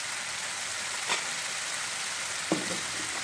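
Cauliflower masala fries in oil in a pan, a steady soft sizzle that runs throughout, with a couple of faint utensil taps.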